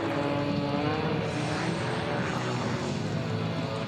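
A stunt airplane's engine roars steadily and loudly at a military air show, a dense continuous drone with no pauses and no voices over it.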